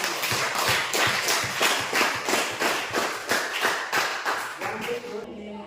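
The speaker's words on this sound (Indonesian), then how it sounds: "Tepuk tangan." Applause after a class presentation, a steady run of close, rhythmic hand claps from a small group lasting several seconds before fading out.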